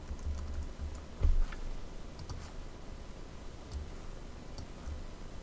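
Name being typed on a computer keyboard: soft, quick key clicks scattered through a steady low background hum, with one slightly louder tap burst partway through.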